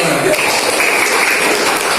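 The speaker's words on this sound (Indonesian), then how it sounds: "Tepuk tangan." Applause in a classroom during a teaching session, a continuous wash of clapping that fills the short span at an even level, with voices blending underneath.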